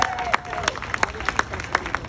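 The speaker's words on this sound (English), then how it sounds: "All the folks from Mending Hearts, can you all just clap for yourselves?" A small audience of Mending Hearts members at a National Women Touched by Addiction Day event claps for themselves, with sharp scattered claps standing out over crowd chatter and murmuring voices.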